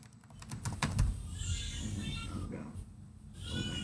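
Typing on a computer keyboard during an online video chat, a burst of quick clicky keystrokes early on, then softer background noise with a meowing cat and faint voices in the room.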